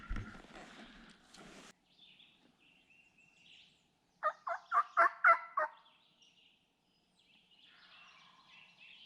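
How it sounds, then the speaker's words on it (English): Wild turkey gobbling outdoors in Virginia, one rapid, rattling burst of about six notes at moderate distance, with faint bird calls and soft rustling around it. "Alright, he just gobbled right over the side here."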